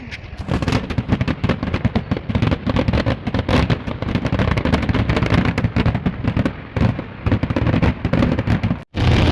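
Fireworks burst continuously at the Mangalam Vela temple festival in 2024, a loud, dense barrage of rapid cracks and booms with crackling bursts, sustained at close range with a brief gap near the end.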